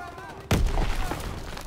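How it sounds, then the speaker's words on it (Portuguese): A grenade goes off in the World War II shooter Call of Duty WW2: one sudden, loud, close blast that leaves a rumbling, noisy tail, over a faint game background. "Oba, granada aí, cuidado"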